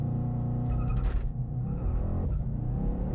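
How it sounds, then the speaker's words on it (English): A 2019 Mercedes-AMG C63S accelerates hard with a little wheel spin, its deep engine rumble rising steadily in pitch from inside the cabin, with a brief rushing surge midway. "there's a little bit of wheel spin. Oh yeah, that's quick"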